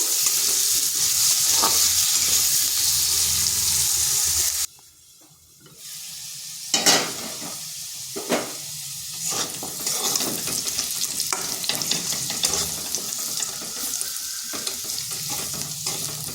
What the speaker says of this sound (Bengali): এরপর আলুগুলোকে হালকা ভেজে নেব একটু লাল লাল করে ভেজে নেবো